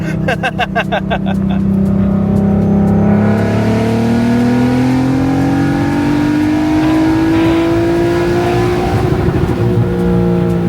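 A 3.6-litre VR6 engine in an MK6 car revs hard and climbs steadily in pitch, loud and close, with a rough growling tone that builds over several seconds.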